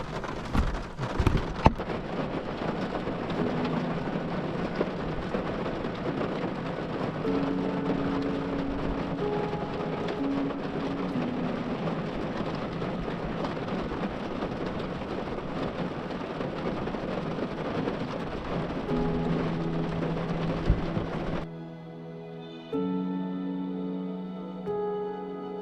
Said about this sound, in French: ça fait une bonne grosse demi-heure qu'il pleut